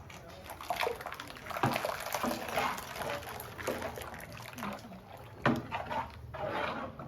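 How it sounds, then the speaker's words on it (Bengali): Bowls being washed with water, running and splashing water with clattering handling sounds, a close, busy wash continuing throughout. "সব গামলাগুলো ধুয়ে ধুয়ে ভালো করে দিতে হবে"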